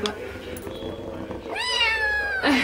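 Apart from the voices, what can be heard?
cat meowing loudly at animal shelter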